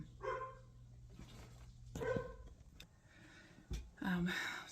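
Dogs bark a few times in the background of a home recording, short yips and barks under a person talking.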